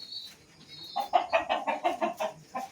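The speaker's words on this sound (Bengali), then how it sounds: "একটা মোরগ" A large rooster clucks on a farm, a close run of rapid, evenly spaced clucks building after a short high call at the start.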